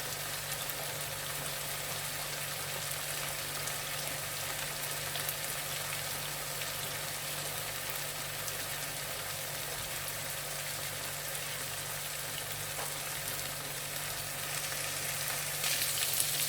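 Malai chicken tikka coated in cream fries in a hot pan, giving a steady, loud, dense sizzle and crackle that continues unbroken throughout with no voices.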